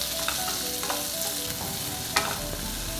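Cashews, onion, green chillies and dried red chillies sizzle steadily in hot oil in a pan while being stirred, with a constant frying hiss and occasional scraping and light clinks of the spoon.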